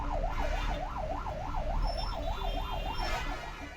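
A 108 ambulance siren wails while the ambulance is stuck in a traffic jam in Himmatnagar for 25 minutes. The loud, nearby tone rises and falls rapidly and continuously, with faint traffic rumble beneath it.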